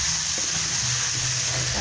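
Steady hiss of spring roll filling with bamboo shoots sizzling as it is stir-fried in a pan, continuous and close, with a low rumble underneath and no talking.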